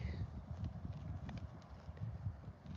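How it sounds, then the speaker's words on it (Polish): Horses walking nearby, with soft irregular hoof clops on the ground, low and close, alongside faint background murmur. "Mamy takie oto piękne konie."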